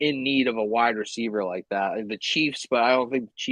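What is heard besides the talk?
No distinct noise like a dog, phone or traffic.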